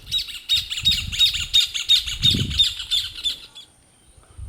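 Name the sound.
wading bird calls, sun-bittern or wattled jacana, Pantanal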